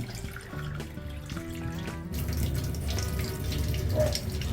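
Water pouring from a tap to soak cat grass seeds at home, a steady splashing stream that grows fuller and louder partway through, close by with no talk.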